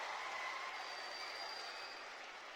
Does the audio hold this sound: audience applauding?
yes